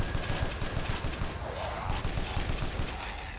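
Rapid, dense pistol gunfire in the Resident Evil Village horror game, a steady burst of shots running the whole time at a loud, even level.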